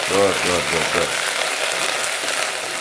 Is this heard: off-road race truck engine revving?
no